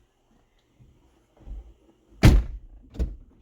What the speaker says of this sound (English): It says close the door and reopen it